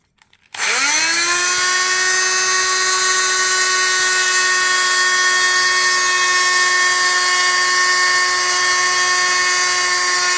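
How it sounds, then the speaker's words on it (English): A rotary tool spins up sharply and then holds a steady, piercing high-pitched whine while cutting the plastic edge of a Mercedes C-Class W204 xenon headlight housing, loud and close, with no voices. "Now I will cut the edge from this line, and then I will plastic weld it."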